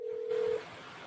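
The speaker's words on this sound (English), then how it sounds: "Can we mute somebody's phone going off?" A cell phone sounds off in the studio during an election special talk show in Liberia: one steady electronic tone that holds for about half a second, then cuts out, leaving quiet room noise.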